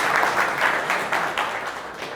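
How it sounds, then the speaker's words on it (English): Conference audience applauding a speaker on accessible e-commerce, a soft rolling wash of clapping that pulses gently and fades slightly toward the end, somewhat distant. "A round of applause, please"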